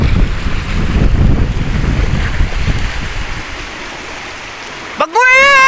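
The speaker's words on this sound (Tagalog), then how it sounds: "lakas ang hangin." Strong wind buffets the microphone at sea, a steady loud broadband roar like waves and boat noise, easing slightly toward the end before a sudden high whistling or shrill cry breaks in.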